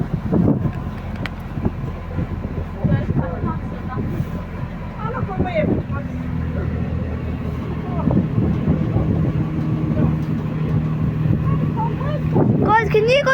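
A motorboat engine drones steadily throughout a boat ride, with a constant low rumble and wind buffeting the microphone as voices talk over it.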